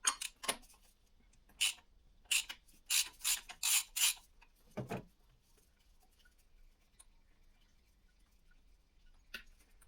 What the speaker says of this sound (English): So now I'm gonna remove the oil filter.